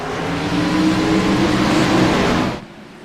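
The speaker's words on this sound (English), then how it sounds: "Sean Roberts hits the loud pedal, and away he goes from Justin Lawson in second." Race truck on the Richmond oval in the iRacing simulator accelerating hard at a green-flag restart, a loud, dense engine roar that holds steady then abruptly drops away near the end.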